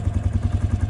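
Engine of a Jeep revving steadily as its transmission slips in gear, a pulsing low rumble with rhythmic throbbing close by.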